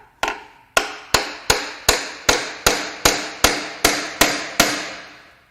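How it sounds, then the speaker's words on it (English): Twelve evenly spaced, sharp metallic raps from a small hammer on the timing cover of a Mercedes M278 4.7-litre bi-turbo V8 engine during a teardown, each ring dying quickly before the next strike, close and fairly loud. "I'm going to gently tap on this timing cover with this hammer"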